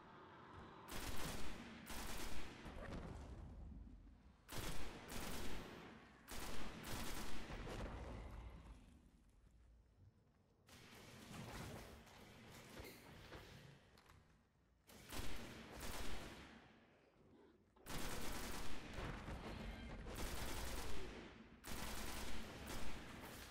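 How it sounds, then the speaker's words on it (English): Assault rifle fire in Destiny on the Moon, sustained automatic bursts in several clusters separated by brief lulls, loud and close with explosive impacts mixed in. "Pretty strong assault rifle."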